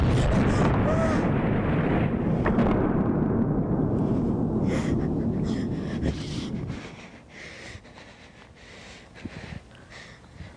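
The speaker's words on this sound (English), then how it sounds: "That explosion you just heard." A loud, roaring blast rumbles and slowly fades into a low, windy aftermath with scattered faint noises.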